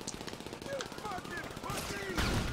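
Rapid gunfire in a GTA V gang war, with sharp repeated shots crackling in quick bursts while a voice speaks over them.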